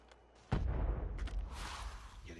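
Gunfire in a video game, one sharp loud shot followed by a rumbling tail and further muffled shooting through a window, close and heavy, without speech.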